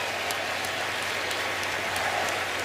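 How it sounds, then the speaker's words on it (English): A Philadelphia stadium crowd at an NFL game gives steady, dense applause for an injured player being helped off, a continuous wash of clapping at a distance. "Latulele gets a nice hand from this Philadelphia crowd as he's helped"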